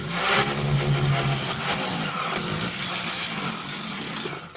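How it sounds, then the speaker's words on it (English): A rotary hammer chips out floor tiles with a continuous loud, gritty hammering clatter up close. It dips briefly midway, then keeps going before cutting off. "the rotary hammer yet again pretty much makes mincemeat out of this flooring"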